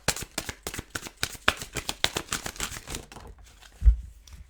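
Tarot cards are shuffled in a quick run of close, crisp riffling flicks, then the deck goes quiet and a single card comes out with a soft thump.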